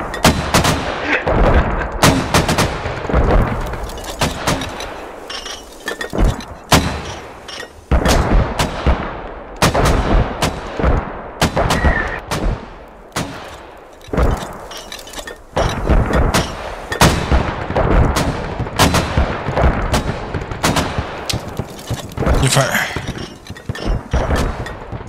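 A huge mortar barrage in the video game Squad: dense, loud volleys of explosions, some near and sharp, others rolling and layered, keep pounding almost nonstop for about twenty-five seconds with only brief lulls.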